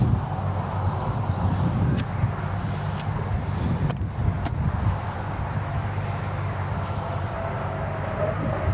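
An 8,000-watt diesel generator runs on a 2024 Newmar Super Star 4065 motorhome, giving a steady, loud low rumble that holds unbroken throughout with a few faint clicks above it.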